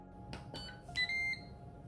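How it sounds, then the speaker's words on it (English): Electronic beep from a Ninja KT200UK electric kettle, a short faint tonal chime of a couple of notes rising into one held tone, quiet and close in a kitchen with soft clicks before it. "the Ninja beep is back."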